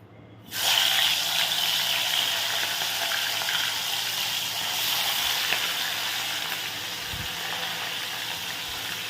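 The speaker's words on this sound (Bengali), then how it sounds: "এবারে মাছটা ভেজে নেব" Fish coated in salt and turmeric hits hot oil, breaking into a sudden loud sizzle that settles into a continuous bright hiss and crackle with a few low thumps along the way.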